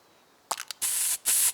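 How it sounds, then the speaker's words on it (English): Pesticide sprayed onto beetle-infested trees in the hunting video game theHunter: Call of the Wild, Yukon Valley in Alaska: a few quick clicks followed by two close, loud bursts of hissing spray, each lasting under half a second. "they can just spray it with pesticides to protect it"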